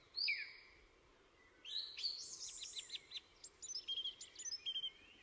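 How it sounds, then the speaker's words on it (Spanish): A song thrush sings in a quiet woodland, its bright, whistled phrases repeating in short bursts that grow busier toward the end, faint and distant over soft background hiss. "un zorzal, perdón, que canta"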